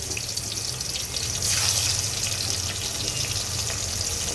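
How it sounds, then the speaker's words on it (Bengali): Shing fish, the stinging catfish, go into hot oil to fry and set off a steady, dense sizzling hiss that grows a little louder partway through and then holds evenly. "এখন আমি এগুলো ভেজে নেবো চলো মাছগুলো দিয়ে দেই"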